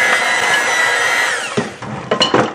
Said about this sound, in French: Je vais mélanger le tout pour avoir une consistance homogène.